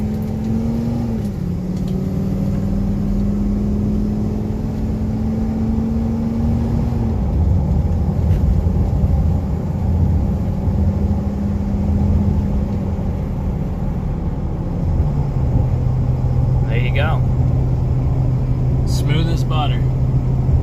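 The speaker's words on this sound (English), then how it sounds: "now we're going to do a quick road test" A 2001 Ford F250 4x4 pickup on a road test, recorded from inside the cab: engine drone rising and dropping with gear shifts, steady road rumble, loud and continuous.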